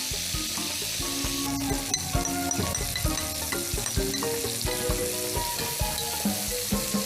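Duck pieces fry in a hot pan before spring onions go in, giving a loud, steady sizzle with crackling pops and occasional stirring clatter, close up and with no talking.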